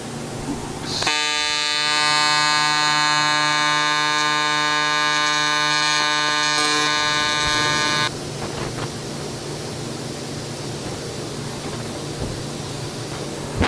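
Welding the seams of a coolant surge tank for a Monaco Dynasty motorhome gives a loud, steady electric buzz that holds for about seven seconds, then cuts off into quieter shop background.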